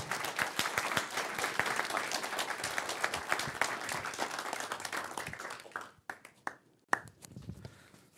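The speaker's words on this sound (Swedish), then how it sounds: "Vi tackar Oliver med en varm applåd" Warm audience applause at the launch of the Swedish National Archives' yearbook, a dense steady clapping from a seated crowd that thins out near the end into a few scattered, isolated claps.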